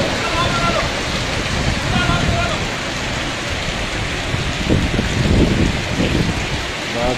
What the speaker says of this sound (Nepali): यति ज्यादा असिना पऱ्यो।